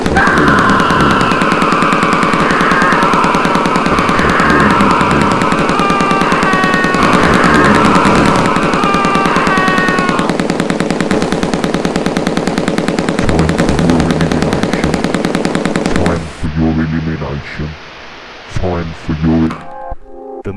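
Rapid machine gun fire rattles loud and continuous in an animated 3D scene, with sustained bursts for most of the stretch before breaking into a few scattered, choppier shots near the end.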